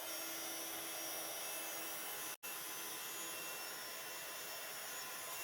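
A heat tool blows steadily over bonding powder beneath gold foil on a handmade card, a constant loud whooshing hiss with a single abrupt cutout partway through.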